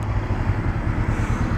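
Honda CB500R motorcycle engine decelerating in third gear, a steady low rumble with a loose pulsing throb, close and fairly loud throughout, no talking.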